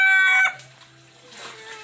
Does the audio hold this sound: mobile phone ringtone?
no